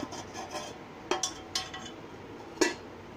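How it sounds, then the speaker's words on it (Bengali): Small metal pot lid set upside down inside a pressure cooker, producing a few light clinks and taps of metal on metal, close and fairly quiet, with no talking. "এর মধ্যে আমি একটি হাঁড়ির ঢাকনা ছোট মতো এটা বসিয়ে দেবো উল্টো করে এরকমভাবে।"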